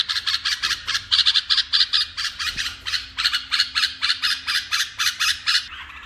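Young pet bulbuls calling close by, a rapid series of loud, harsh, nasal repeated notes in quick bursts that continue for several seconds, with no talking.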